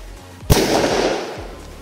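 A small dumbum mini firecracker goes off with a single sharp, loud bang, followed by a short rumbling tail that fades over about a second. The blast is heard alone, with no voices.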